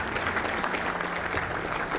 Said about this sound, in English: Give your guys a round of applause